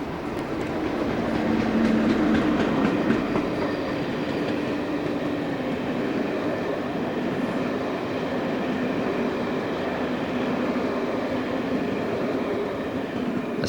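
Locomotive-hauled passenger train on a Birmingham to Ramsgate service rolling past, a loud continuous rumble with faint rhythmic wheel clatter over the rail joints, steady from start to finish with no voices.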